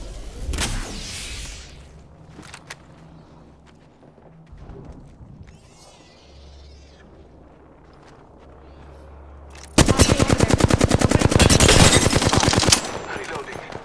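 Automatic gunfire in Apex Legends on PS5, sporadic shots early on, then a loud sustained burst of rapid fire near the end, with fainter thuds and game effects in between.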